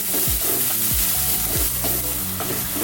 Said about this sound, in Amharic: ሽንኩርት እየተጠበሰ ነው።